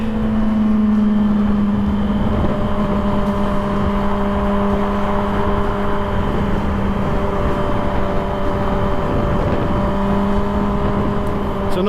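Custom Yamaha R6 sport motorcycle holding fifth gear at about 7,000 RPM, a steady loud engine drone with a constant tone and wind rush running throughout without a break.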